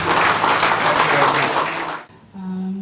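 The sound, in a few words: another round of applause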